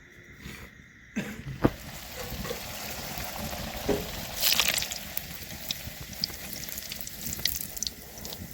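Kochuri dropped into hot oil in a kadai, a sharp burst of sizzling bubbling after a quiet start, then steady crackling frying with scattered pops throughout.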